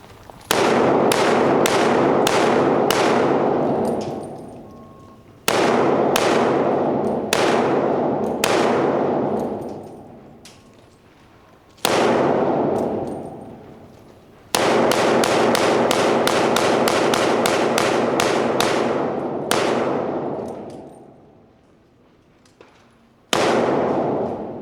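Rifle shots on an outdoor shooting range comparing an M4 and a Sig Spear M7, loud sharp reports in quick strings with ringing echoes decaying between volleys, close and powerful with no talking.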